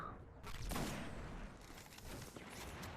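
Hand cannon gunfire in Destiny's Vault of Glass raid, a sharp burst of shots opening the clip and further shooting and booming combat noise continuing densely throughout.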